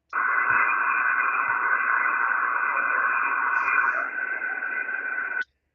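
A weak amateur radio signal sitting just above the band noise on a portable station: a steady hissing, whistly tone with faint garbled content that holds for about five seconds before cutting off abruptly.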